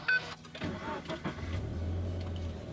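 A Toyota GT86 fires up with a push-button keyless start: a short starter whir and catch, then a low, fairly quiet engine settling into a steady idle.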